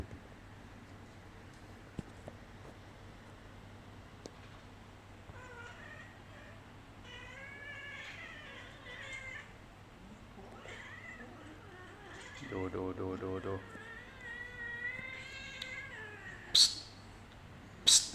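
Cats meow and yowl intermittently over a low hum, including a drawn-out wavering cry; a person speaks softly at times.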